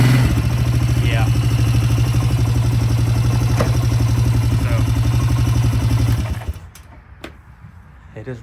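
A vehicle bought cheaply off Facebook Marketplace runs with a steady, loud engine drone for about six seconds, then cuts off abruptly, leaving near silence broken by a few faint clicks.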